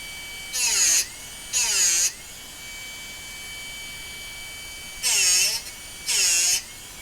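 A Darex Drill Doctor 750X sharpener grinds a drill bit in four separate high-pitched whining bursts, two close together at the start and two more after a quiet pause.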